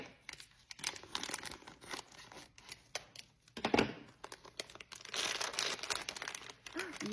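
Scissors cut open the plastic packaging of a squishy toy up close, giving a run of crinkling, snipping and rustling sounds with brief pauses. Faint talk can be heard in places.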